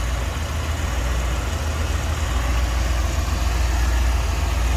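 The 5.7-liter tuned port injected V8 of a stock 1990 Chevrolet Corvette convertible idles with a loud, steady, even rumble, continuous and close with no voices.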